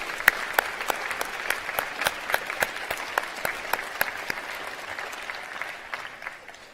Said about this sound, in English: Let's have a round of applause for all those folks who helped you.